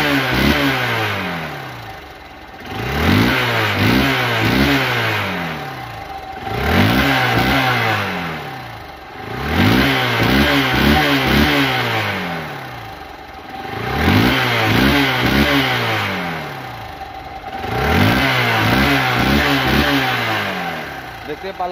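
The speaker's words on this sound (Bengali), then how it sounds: "এখন দেখো বাইকটির সাউন্ড এবং পারফরম্যান্স।" A second-hand Hero Hunk 150cc motorcycle engine is revved in about five loud, close bursts, each rising and then falling back toward idle in a regular rhythm.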